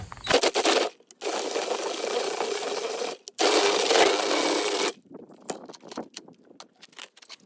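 A drill-powered mixer churns pawpaw seeds in water in two loud, harsh bursts of rattling and whooshing, with a short gap between them. Lighter clattering and handling noises follow afterward.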